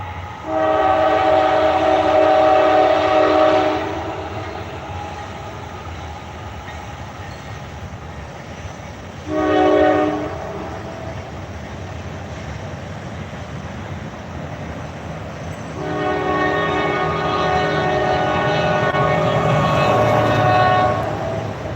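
Norfolk Southern freight train rolling past at speed, loud near horn blasts at the start, middle and end over a continuous rumble and clatter of wagons, no talking.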